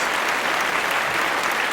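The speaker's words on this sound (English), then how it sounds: "so let's give them a round of applause." An audience gives a round of applause, with steady, dense clapping at an even level from start to finish.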